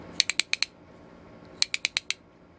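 Restored 1890s T-handle ratchet brace ratcheting, two sharp, close runs of five even metallic clicks separated by a short pause, clear against a quiet background.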